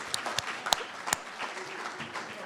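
Audience clapping at a Sunday afternoon art museum gathering, a short burst of scattered claps from a modest crowd that tapers off quickly.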